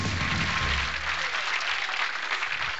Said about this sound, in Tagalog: Put your hands together for the very confident candidate